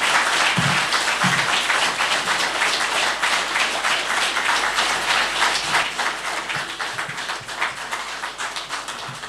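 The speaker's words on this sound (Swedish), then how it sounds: "Jag får alltid gå upp till applåder." Audience at a Swedish political panel event applauding a speaker, steady dense clapping throughout that gradually thins toward the end.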